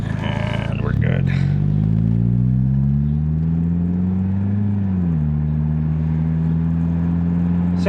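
A 1987 Toyota Camry, about 30 years old, is driven: a close, loud engine drone rises in pitch as it accelerates, then drops and settles into a steady cruising hum.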